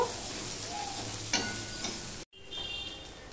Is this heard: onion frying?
yes